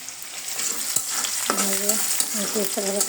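Boiled noodles fry in a pan for a homemade breakfast, giving a steady sizzle that runs throughout, with a few stirring scrapes and a clear clink partway through; no one speaks.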